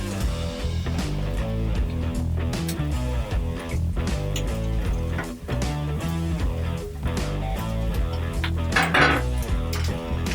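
Cooked rice tipped into a pan of briefly tossed vegetables for egg fried rice, with steady clanking of a spatula against the pan and scraping stirring running continuously underneath constant background music.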